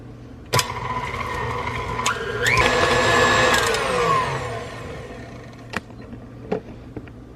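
Electric stand mixer with a whisk attachment beating strawberry frosting, a steady loud whirring drone that rises in pitch partway through and then settles, with a few sharp clicks before and after.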